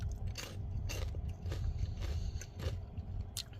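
Crunchy bites into a Buc-ee's snack with a hard, caramel corn-like outer shell, a series of close, sharp cracks and chews in a steady rhythm, about six or seven crunches.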